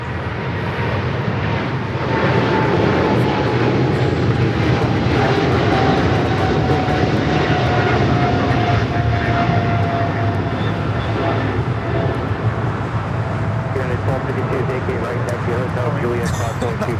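A China Cargo freighter on flight 222 to Shanghai runs its engines at LAX, a sustained jet roar with a slowly falling whine, while people talk nearby over it.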